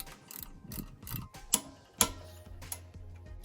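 A torque wrench clicks as it tightens an Allen screw on the front wheel of a Harley-Davidson Softail Street Bob, with sharp mechanical clicks and ratcheting, two louder snaps midway, then a faint low hum, no talking.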